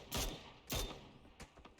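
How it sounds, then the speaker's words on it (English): Gunshots kicking into dirt in PUBG: two sharp, loud impacts about half a second apart, followed by a cluster of fainter, quicker pops trailing off. "Shots into the dirt there."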